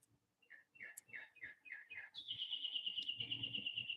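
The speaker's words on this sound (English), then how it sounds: "I wish you could hear the birds." A bird chirps in a quick series of short repeated notes, then breaks into a sustained high trill, close and clear.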